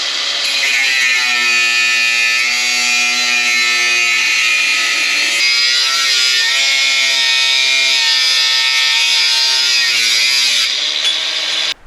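Steady, loud high-pitched whine of a power cutter slicing through a Lambretta TSR EVO exhaust, running continuously with slight pitch shifts and no talking.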